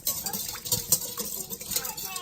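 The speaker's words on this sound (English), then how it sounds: "And then we're gonna whisk it." Buffalo sauce whisked in a bowl, a quick run of light scraping and clinking strokes against the bowl, close and fairly quiet, with faint sizzling under it.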